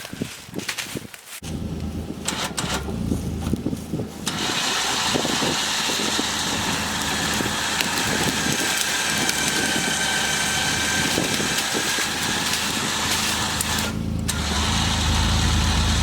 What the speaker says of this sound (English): This little winch on the front of this machine is impressive.